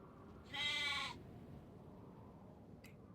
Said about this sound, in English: Sheep somewhere.